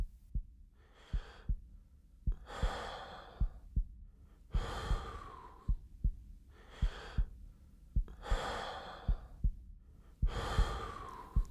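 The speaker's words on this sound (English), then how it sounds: "it plays a calm breathing sound" Calm breathing for a game character's healthy state, with health above 45, plays as slow, steady inhales and exhales. Soft, regular heartbeat thumps run beneath the breaths throughout.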